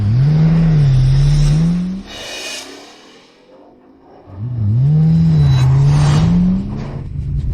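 A Rolls-Royce car engine revs hard twice, each loud rising and falling roar separated by a brief lull, close and prominent, with no talking over it.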